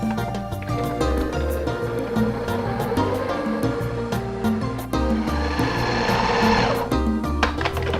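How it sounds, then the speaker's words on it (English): A Ninja blender runs steadily for several seconds while making bread dough, a loud continuous motor whir with a churning, grinding texture and slight shifts in pitch as the load changes. "I'm gonna turn on my Ninja and let it do its job"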